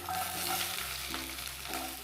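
Tempering spices fry in hot oil for an Odia santula, a close, steady sizzle with low background hum and no talk.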